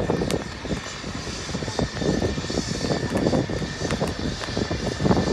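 A HAL military helicopter roars overhead during a flying display at Aero India 2019, with a dense, throbbing engine noise, loud and close, and rhythmic rotor pulsing throughout.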